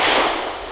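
A single sharp report from a Ruger GP100 .357 Magnum revolver at a shooting range, a loud crack that decays quickly into a brief trailing echo.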